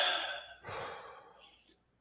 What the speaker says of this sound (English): Those 2 deep breaths.